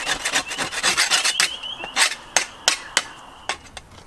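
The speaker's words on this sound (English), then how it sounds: "make sure you remove all of the excess material off the end of the shovel" Excess material being scraped off the end of a garden spade blade: a quick series of rough rasping strokes, close and fairly loud, ending in several sharper scrapes with no talking.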